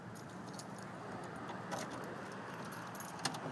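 Car keys jangle close by in a bunch, a steady metallic clinking with a couple of brighter rattles, at a car show outdoors.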